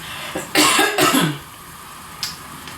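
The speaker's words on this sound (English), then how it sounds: "Cough going on." Two harsh coughs close together, nearby, followed by a short raspy throat sound and then quiet.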